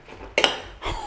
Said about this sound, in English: And now a stir up and a mix up.